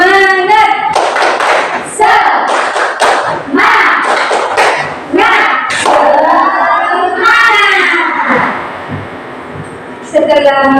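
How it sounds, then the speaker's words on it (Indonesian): A classroom of children performs a rhythmic spirit clapping chant, loud rapid hand claps mixed with children chanting and shouting together in a close, lively room. "Kita tepuk semangat dulu."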